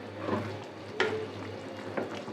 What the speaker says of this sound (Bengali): তো এখন লাড়াচাড়া দিয়ে নিব।